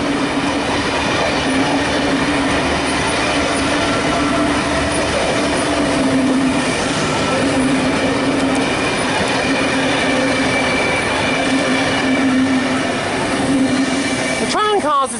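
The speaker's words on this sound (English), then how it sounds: "We've got a V-set passing platform number 2." An electric passenger train (a V-set) rolls steadily past a station platform at close range at Cowan, a continuous loud rumble with hum and rail noise, ending in a brief wheel squeal.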